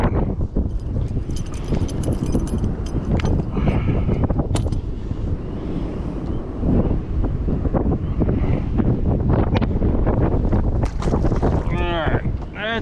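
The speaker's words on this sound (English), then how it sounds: "This wind is kicking my butt." Strong gusty wind blasts a microphone beside a pond during a bass fishing trip, a loud, constant roaring buffet that fills the whole stretch with low rumble and crackling distortion.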